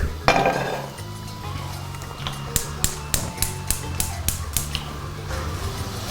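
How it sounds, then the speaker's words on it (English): A pan is set on the stove for cooking steak, with a quick run of sharp metallic taps and clanks near the middle, close and moderately loud over a steady low kitchen hum. "Just gonna get a pan on for my steak."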